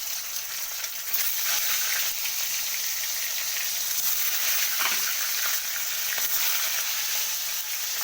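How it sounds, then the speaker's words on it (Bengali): Duck eggs fry in a pan seasoned with turmeric, giving a constant, fairly loud sizzle with a brief scraping stir partway through. "তো ডিমগুলোকে আমি ভেজে তুলে নেব।"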